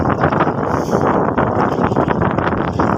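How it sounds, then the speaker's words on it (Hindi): Strong, cold wind blowing by a lake with waves, a loud continuous roaring buffet across the microphone with no voices. "यहाँ बड़ी तेज़ हवा है और काफ़ी ठंड है यहाँ पर"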